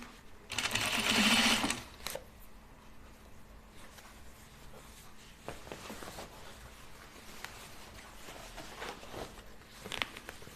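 A sewing machine stitches a trouser waistband near a belt loop in one loud, close, steady burst of about a second and a half, followed by softer handling rustles and small taps as the fabric is adjusted.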